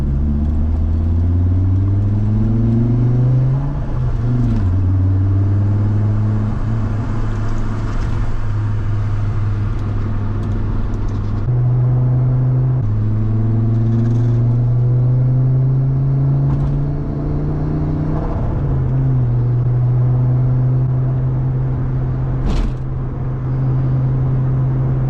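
Fiat Coupe car engine while driving on a weekday commute, a steady loud droning hum that rises in pitch through each gear and drops at the shifts, with no talk over it.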